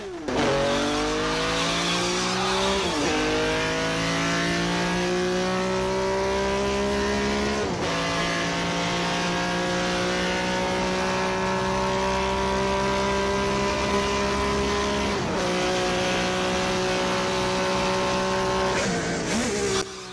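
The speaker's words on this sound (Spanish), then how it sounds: "después, en postproducción, se le añadió el sonido de un Ferrari 250." Ferrari 250 engine sound laid over a Mercedes 450 SL chase scene: a loud, continuous engine roar running through repeated rev climbs, with four sharp gear-change dips along the way and no talk.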